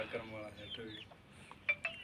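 Punjabi Aseel hens and a young rooster from a crowing bloodline cluck softly in a yard, with a few sharper calls near the end and faint talk in the background.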